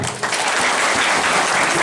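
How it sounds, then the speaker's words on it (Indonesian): Dense applause from a church audience at a church inauguration in Iranmeba, Papua Barat, a loud continuous wash of many hands without pause. "Mari tepuk tangan kita semua."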